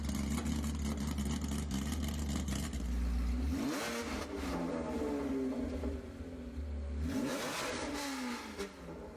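A 1966 Ford GT40 V8 revs hard through an equal-length race exhaust, loud and close, with a steady roar for the first few seconds, then rising and falling blips of throttle that sweep up and back down twice.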